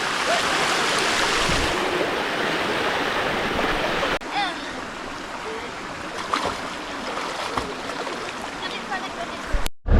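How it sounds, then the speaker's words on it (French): A waterfall and stream in the Barranc de Méréa canyon in Spain, a steady close rushing of falling water with someone speaking over it. "Cette fameuse cascade là, c'est la cascade des nudistes"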